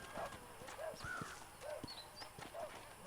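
Saddled horses in a Red Dead Redemption western game world, with soft hoof clops and short whinny-like calls recurring every half second or so at moderate level over a steady ambient bed.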